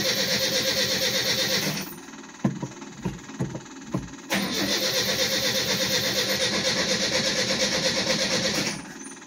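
A 1975 Chevy LUV pickup truck's engine runs steadily, cuts out, then cranks through a few uneven starter turns and catches again, settling into a loud, close, continuous idle.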